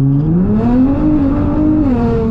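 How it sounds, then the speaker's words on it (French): A Nissan GTR accelerates hard, its exhaust note climbing in pitch and then holding as a loud, close, steady roar heard from inside the car. "Ces échappements, ils sont magnifiques"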